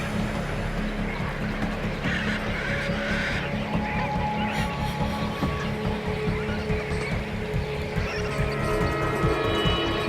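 A large flock of flamingos calls while a predator hunts them, a dense, continuous chorus of goose-like honks at steady loudness.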